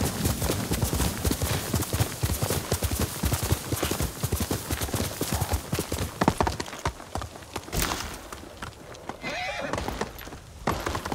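A horse named Noble in the samurai game Ghost of Tsushima clip-clops along in a steady hoof rhythm, with a whinny and snorts breaking in near the end.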